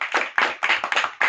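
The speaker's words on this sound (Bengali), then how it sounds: "হাততালি হাতে দে" Hands clapping at a birthday celebration, about eight sharp claps in a quick, slightly uneven rhythm, close and fairly loud with no talking.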